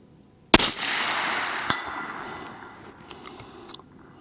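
A single sharp rifle shot fired through a Burris Veracity PH scope setup cracks loudly near the start, then a long reverberant tail rolls away across open ground, with a faint second impact-like thump a second later.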